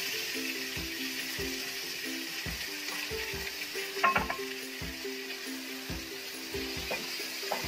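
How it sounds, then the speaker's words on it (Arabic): Minced meat fries in a pan for a baked macaroni gratin, a steady sizzle broken by regular rhythmic scraping and stirring strokes, close and without talk. "نضيفو اللحم المفروم هكدا"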